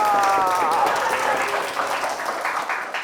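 A podcast studio audience applauds, a dense patter of clapping that starts loud and slowly thins over about three seconds, with a voice talking faintly at the start.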